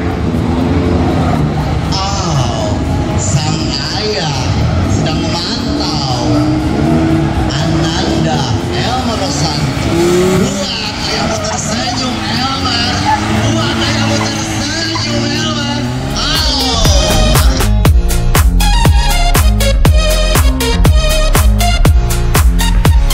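Cars competing in a slalom event, with revving engines and tire noise under a speaking voice, then loud music with a heavy beat taking over for the final seconds.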